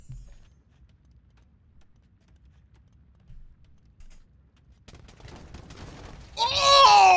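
Age of Empires II match with mangonel shots and Janissary gunfire: a quiet stretch gives way to scattered crackling battle noise, then a loud burst of overlapping game sound effects near the end.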